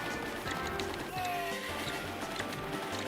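A horse gallops in the arcade game Sunset Riders, its rhythmic clip-clop of hooves running steadily under busy game music and effects.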